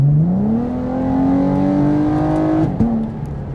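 A sixth-generation Chevrolet Camaro engine revs up and holds a rising, throaty drone, then briefly drops and catches again, loud and close.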